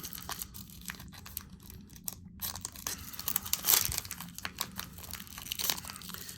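Opening a foil wrapper of a 2021 Goodwin Champions hobby trading card pack, with close, irregular crinkling and tearing throughout and a sharper rip near the middle.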